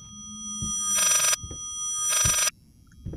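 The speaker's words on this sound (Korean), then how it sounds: "전화 오니까 진짜 사일런트 힐 같은데?" Phone ringing in the horror game Layers of Fear VR on Oculus Quest 2: two loud, electronic ring bursts about a second apart, each lasting roughly a third of a second, over quiet game ambience.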